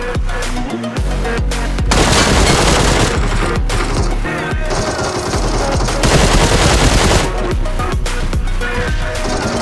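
Gunfire rattles through a PUBG match: rapid bursts of automatic shots and single loud cracks come in clusters, with brief lulls between volleys and low game sound underneath.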